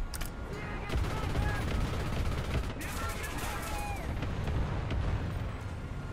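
Machine gun fire from a vehicle in War Thunder, aimed at an open Flak vehicle, mixed into dense battle noise with rapid bursts under steady rumble, alongside speech.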